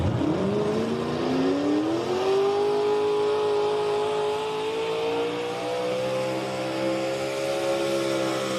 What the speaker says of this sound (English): On the tractor side, out on the track comes the International 1466, driven by Noah Allison out